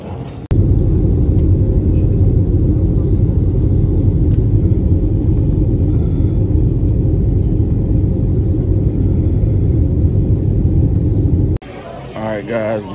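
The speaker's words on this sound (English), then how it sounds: "we just landed." After an airplane lands, a loud, steady low rumble fills the cabin for several seconds and then cuts off abruptly near the end, with faint background chatter.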